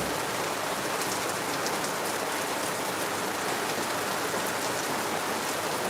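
Heavy rain pours steadily in Lagos, a dense, even hiss of drops on surfaces that stays loud and unbroken throughout, with no voices.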